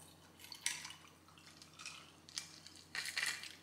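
A cocktail made with lime juice is poured out of a small shaker filled with ice, giving a few short splashing, rattling bursts that swell and fade across a few seconds, fairly quiet and with no talking.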